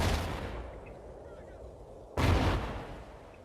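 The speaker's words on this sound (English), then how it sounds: "Realize gets a nade on FiosWarriors" Call of Duty Ghosts tournament match with a sharp gunshot burst at the start, a quieter stretch, then a loud grenade blast that fades out.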